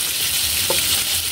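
Fried fish and garlic are stirred into a mung bean stew with fried scad, and a loud, continuous sizzle of frying fills the pan with a brief scrape of the stirring utensil partway through.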